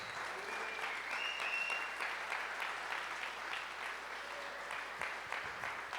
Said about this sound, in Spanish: Denle un fuerte aplauso a nuestro Padre.